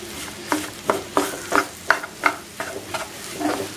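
Upma being turned over and stirred in a pan, a series of soft, evenly spaced scraping strokes over a low sizzle, close by.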